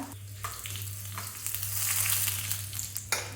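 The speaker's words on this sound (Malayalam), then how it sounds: "അര ടീസ്പൂൺ കടുക് ചേർക്കാം കടുക് ഒന്ന് പൊട്ടിക്കഴിയുമ്പോൾ ഒരു വറ്റൽ മുളക് ഇതേ രണ്ട് മൂന്ന് ഇടാം" Mustard seeds splutter in hot coconut oil in a pan for Kerala sadya banana pachadi, a steady close sizzle dotted with sharp popping crackles throughout, over a low constant hum, with no voices.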